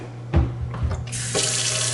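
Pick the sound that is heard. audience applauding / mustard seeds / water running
water running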